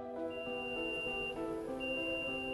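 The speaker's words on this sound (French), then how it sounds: "Maintenez ensuite le bouton de fermeture pendant 3 secondes jusqu'à entendre 2 bips." A powered car tailgate sounds two long electronic beeps, separated by a short gap, over a steady tonal hum.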